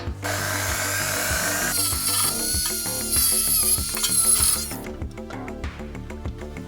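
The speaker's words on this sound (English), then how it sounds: "Since I have no patience at all, I'm going to use a Dremel as always." A Dremel rotary tool grinds plastic on an LCT G3 airsoft gun being converted to a Swedish AK4, a close, steady high-pitched whine with rattling contact noise that stops near the end, leaving faint handling clicks.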